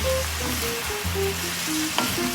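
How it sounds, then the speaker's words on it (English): Vegetables sautéing in a pan for cornbread dressing, giving a steady close sizzle with faint tonal hum beneath and a brief clink near the end; no talking. "See, the vegetables are beginning to sweat. Mom is taking over with saute action."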